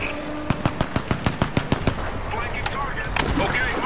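Rapid automatic gunfire in the video game Crysis 3, a burst of about a dozen sharp evenly spaced shots followed by a couple of louder single reports over steady game ambience, with someone talking over the action.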